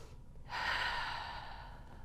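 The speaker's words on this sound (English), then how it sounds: "And I'm going to breathe." A long, audible breath during a pregnancy exercise hold, starting halfway through as a soft airy inhale or exhale that fades out, close to the microphone with no talk.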